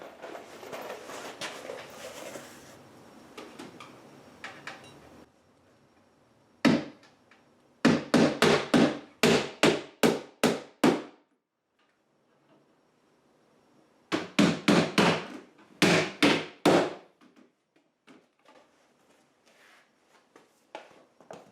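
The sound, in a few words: hammering nails into wood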